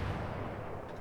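Distant naval gunfire booms low and muffled in World of Warships, an armor-piercing shell volley rumbling faintly as a steady dull roar.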